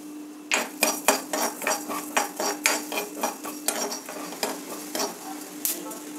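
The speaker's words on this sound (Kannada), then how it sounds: "ಈಗ ಜೀರಿಗೆ ಧನಿಯಾ ಹುರಿದಿದ್ದಾಯಿತು" Coriander seeds and cumin are stirred while roasting in a dry pan, producing rhythmic scraping strokes with a rattly crackle, close and fairly loud, with a faint steady hum underneath.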